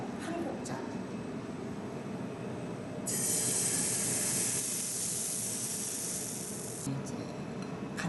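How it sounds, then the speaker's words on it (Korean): A ladle of buckwheat batter, equal parts water and buckwheat flour, hits a hot pan and erupts in a loud, steady hissing sizzle that holds for several seconds before abruptly dropping back to a soft background hiss. "그래서 팬이 달궈지면 한 국자."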